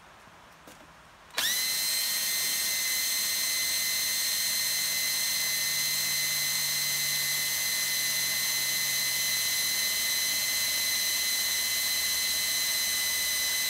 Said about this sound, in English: The drill's slowing down there.